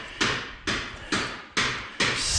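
Five sharp, loud impacts at a steady rhythm, each ringing briefly before the next, like hammering on tires in a garage where a 1966 Ford with a 1965 chassis is being worked on.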